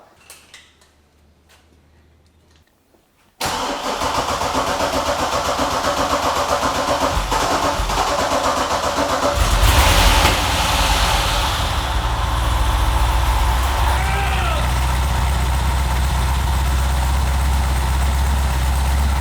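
A Katech LS7 V8 car engine, started for the first time, cranks and starts after a near-silent stretch, then settles into a steady, loud idle that revs up briefly before continuing to rumble.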